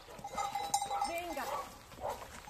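A sheep bleats during shearing, a wavering nasal cry that rises and falls over a couple of seconds, close by, amid rustling and handling noise.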